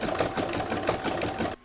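An embroidery sewing machine stitches a Christmas placemat in the hoop, a steady rapid mechanical whir that runs continuously, then stops abruptly at the end.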